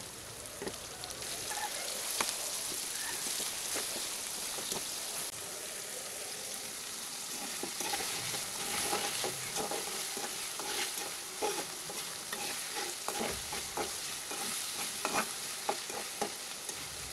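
Onion, green chili and tomato fry in a pan for a pangas fish bhuna, a continuous close sizzle with scattered stirring clicks and scrapes, no voices.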